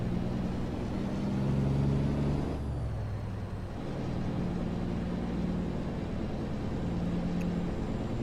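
A heavy truck engine in American Truck Simulator drones steadily as it labors up a snowy hill with slipping tires, easing slightly partway through, with no talk.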